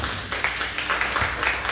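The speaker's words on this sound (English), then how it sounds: "give yourselves a round of applause" Steady applause from an audience at a women's entrepreneur summit, many hands clapping together in a dense, continuous wash of sound.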